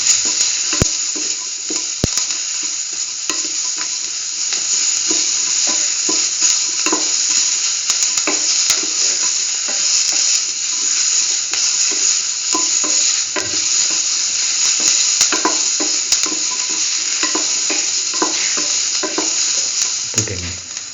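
Tomato and bell pepper instant noodles are stirred in a sizzling pan, a constant loud frying hiss with soft scraping strokes of the spoon scattered through it, no voices.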